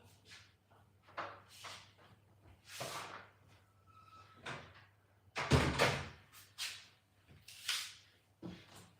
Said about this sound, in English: Just closing the door.